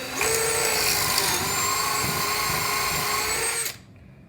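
A power drill bores pocket holes through wood held in a Kreg pocket-hole jig while a rolling tool chest top is built, one steady whine running loud and unbroken for about three and a half seconds before cutting off.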